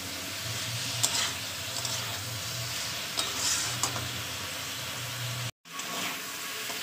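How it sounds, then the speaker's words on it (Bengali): Spices stir-fried in hot oil for a fish curry with figs, a continuous close sizzle with occasional spatula scrapes over a low hum, briefly cut off near the end. "তো দেখতেই পাচ্ছেন আমি প্রায় 10 মিনিট ধরে কষিয়েছি মশলা দিয়ে।"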